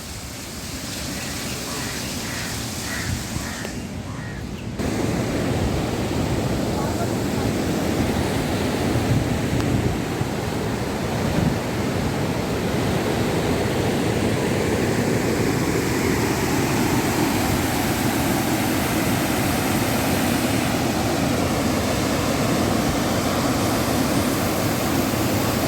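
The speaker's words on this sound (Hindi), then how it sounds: "देखिए अंदर आपको पानी की आवाज़ आ रही होगी।" Waterfall flowing below a dam in a park near Haldwani, a dense, constant rushing roar of water that swells louder after a few seconds and continues evenly, with faint speech at the start.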